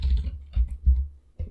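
Keystrokes on a computer keyboard come in a short, quiet burst of a few separate clicks, close by in a quiet room.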